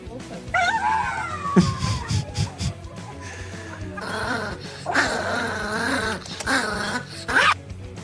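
Dog howling and whining through a nail trim in drawn-out, rising and falling cries, broken by short yelps and grumbles, close and fairly loud, with human chuckles mixed in.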